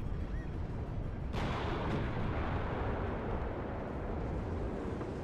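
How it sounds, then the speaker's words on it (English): Artillery or mortar fire strikes M1 tanks in the WARNO strategy game, a continuous rumbling bombardment with a sharp loud impact crack early on, all in dense battle noise. "these two M1s, at the back there, getting hit by artillery or mortars"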